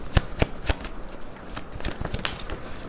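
Tarot cards being shuffled and drawn, a run of crisp riffling snaps and flicks repeating in an uneven rhythm, close and fairly loud with no voices.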